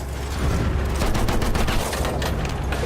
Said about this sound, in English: Feindliches MG da drüben!